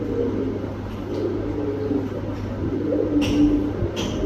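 A black Spanish pouter pigeon coos in low, throaty bursts over a steady background hum, with a couple of faint sharp clicks.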